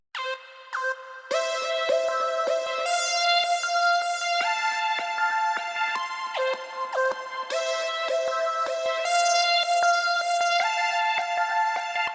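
A bright, sustained synth lead plays a melodic line processed with ShaperBox stutter, reverb and an EQ cutting the lows, with abrupt rhythmic gating of the held notes, loud and alone.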